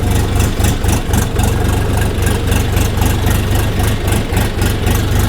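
A DTZ HPX5244 mini tractor's diesel engine runs loud and close as it pulls away, with a steady throbbing rumble and a quick rhythmic chug that continues without pause, no voices.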